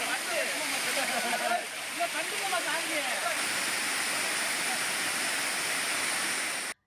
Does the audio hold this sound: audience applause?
no